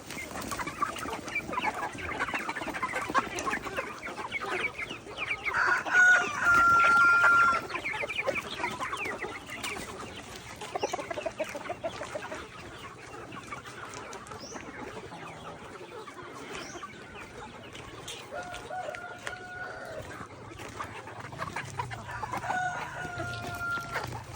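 Hens cluck steadily in the background while a rooster crows a few times, somewhat distant, amid general farmyard noise.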